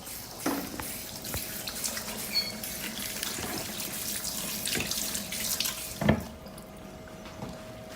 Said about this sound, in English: So let me just wash my hands, and I'll come back to you again in a minute.